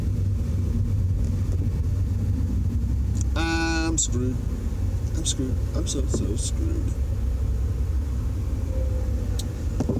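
A car creeps along in slow freeway traffic with a constant low rumble inside the cabin, while someone talks over it in short, anxious bursts.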